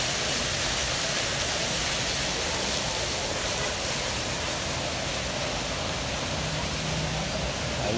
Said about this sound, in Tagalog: may isang napakalakas na fountain